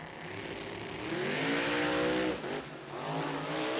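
A drag race car at an NMRA/NMCA event in Chicago roars down the strip, loud and close, its engine note swelling and sweeping in pitch as it wobbles, then dipping briefly before picking up again.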